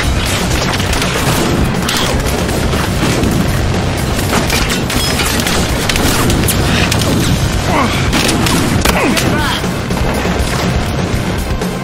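Minigun fire in the shooter game Battlefield Hardline, a loud, continuous roar of rapid shots mixed with impacts and crashes, with voices under it.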